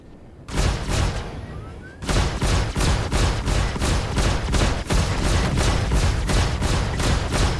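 Gunfire and rockets from the space combat game Star Citizen, Arena Commander mode, pound out as a loud, near, rapid train of rhythmic shots that runs almost without a break after a short lead-in.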